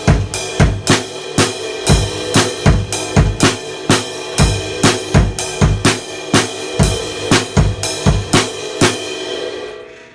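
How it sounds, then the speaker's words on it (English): A drum kit plays a groove from a song, with a crash cymbal struck on every quarter note. The hits are loud, close and evenly spaced, forming a steady pulse over a continuous wash of cymbal. "And then with the quarter note crash, it's going to sound like this."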